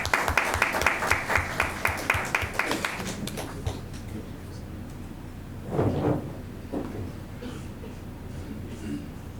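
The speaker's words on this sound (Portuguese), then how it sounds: "Palmas para ele, por favor." An audience at a morning journalists' day ceremony applauds a reverend as he is called to the stage. Moderate clapping fades out after a few seconds, followed by quieter room noise and faint movement.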